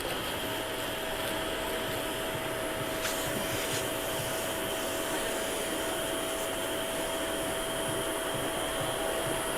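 A steady, loud vacuum cleaner runs continuously, a constant whooshing drone with a thin high whine, no voices.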